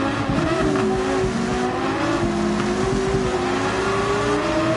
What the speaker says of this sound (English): It is the Alfa Romeo. This car sounds so gnarly. It's one of the gnarliest sounding car in the game.